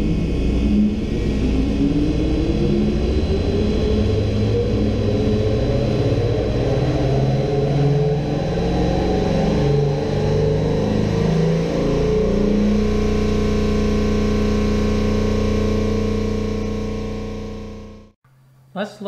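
A prototype continuously variable displacement compressor runs with a loud mechanical hum and rising whine that shifts pitch midway, holds steady, then winds down and cuts off near the end.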